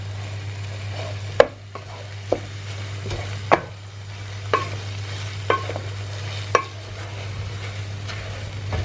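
Curry paste for a slow-cooker lamb rogan josh is stirred and lightly browned in a pan, a low sizzle under a steady hum, punctuated by several sharp spoon knocks and scrapes against the pan.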